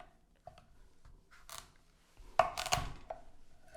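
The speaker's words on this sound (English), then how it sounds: "you want to have a nice sharp knife and go straight down" Sharp knife pressing straight down through a butternut squash on a cutting board, heard as a few quiet crunching cuts with a louder crisp snap near the end, close and otherwise quiet.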